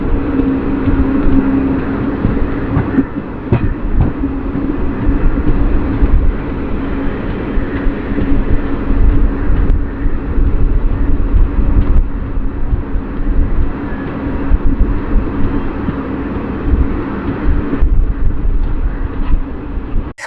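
A passenger train hauled by a WAG-9 electric locomotive rolls into Podanur Junction, heard as a steady loud rumble with wheel and track clatter and occasional sharp clanks throughout, continuous with no voices.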